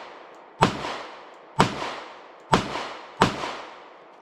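Four sharp gunshots from a Charter Arms revolver with a bobbed hammer, fired at an outdoor shooting range, spaced roughly a second apart, each loud crack trailing off into a short decay, with no talking.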